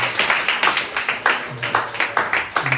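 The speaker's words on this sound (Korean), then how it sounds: "소피아 우리 박수로 맞이하겠습니다." Applause from a high school Sunday worship congregation welcoming a visitor named Sophia to the front, a steady run of close, rhythmic hand claps from a modest group, with voices faintly underneath.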